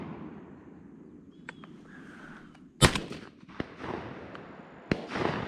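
Shotgun blasts while dove hunting in South Georgia, one loud sharp report followed by two fainter distant pops, set against open-air background noise.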